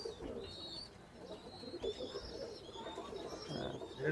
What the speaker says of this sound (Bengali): আমি একটা কবুতর ধরে দেখাই, হচ্ছে আপনার মেল টেডিটা, রয়্যাল টেডি